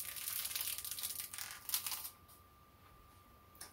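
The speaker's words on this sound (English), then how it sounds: "we're gonna peel off the plastic here" Protective plastic film being peeled off a new PC case, a close, steady crinkling rasp for about two seconds that then fades to quiet, with no talking.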